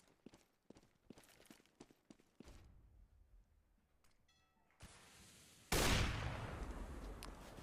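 Gunfire exchange in a Counter-Strike match: a rapid run of sharp shots in the opening seconds, then quieter clattering, followed by a loud sustained burst of noise near the end.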